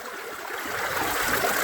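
Water flows steadily through a gold panning sluice box with a dream mat, a continuous close rushing trickle that swells slightly and has no talk over it.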